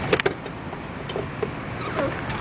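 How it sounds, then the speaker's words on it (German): Aston Martin DBS bonnet being opened: a few faint clicks and soft mechanical clunks of the latch and hood, quiet and close with light movement noise between them. "Los geht's, Haube auf."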